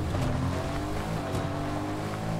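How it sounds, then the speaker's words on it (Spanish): A new car driving in Fortnite, with a continuous engine drone and a whooshing rush that holds steady throughout, loud and close with no speech. "Se escucha diferente el carro, ya te digo yo."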